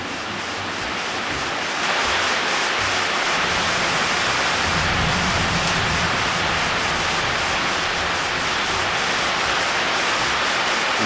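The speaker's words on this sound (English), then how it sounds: "You know, a little bit of thunder, some heavy rain." Heavy rain pours in a steady, dense roar throughout, with low rumbling that fits distant thunder rolling beneath it.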